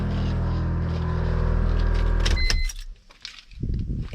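A steady mechanical hum from an air suspension compressor on a BMW E46 drones close by, then cuts off abruptly, followed by a few clicks and handling noises.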